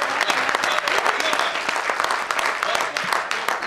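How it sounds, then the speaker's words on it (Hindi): An audience at a poetry and music evening claps steadily throughout, a dense, continuous wash of applause heard close and fairly loud. "जो लोग तालियां कितनी बजा रहे हैं वो भी ना बजाएं, बजाएं तो दमदार बजाएं।"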